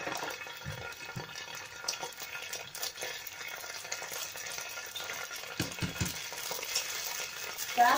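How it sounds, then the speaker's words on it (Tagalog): Spaghetti bolognese sauce sautéing in a pan, with a steady close sizzle and frying hiss broken by several scraping stirs of a utensil, all heard without talk. "igigisa na natin siya ngayon"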